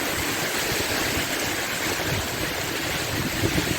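Heavy rain driven by strong wind roars as a dense, constant wash of noise, close and loud with no break, during a storm in Khyber Pakhtunkhwa.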